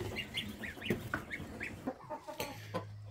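A hen settling onto her eggs in a farmyard coop gives a string of soft, close clucks at an uneven pace, with a few louder squawk-like calls in the middle.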